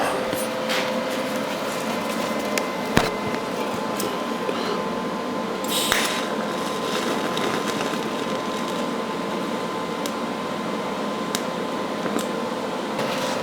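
Metal is welded to fill a small hole, giving a continuous buzzing, crackling hiss with a steady electrical hum that runs unbroken for several seconds, close by and without speech.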